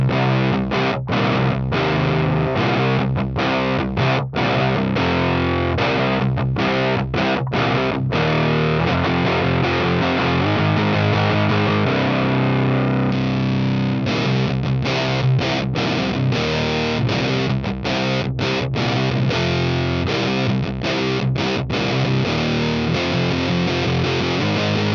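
A heavily fuzzed electric guitar played through a JPTR Warlow fuzz pedal plays thick, saturated chords continuously, with brief stops and restarts, loud and dense throughout.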